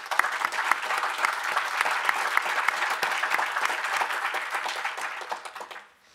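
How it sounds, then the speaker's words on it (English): At a gala, an audience applauds a senator receiving an award for work supporting the Great Lakes. Brisk, dense clapping holds steady for about five seconds before trailing off at the end. "A round of applause, please."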